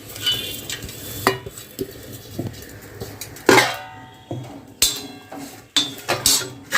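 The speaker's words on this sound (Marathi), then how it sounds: "शेंगदाणे घेतलेले खोबरं घेतलेले हे आपल्याला यामध्ये घालायचे मिक्सरच्या भांड्यामध्ये" Peanuts and grated coconut go into a mixer jar in a home kitchen, a close run of irregular clinks, clatters and scrapes with brief pauses between them.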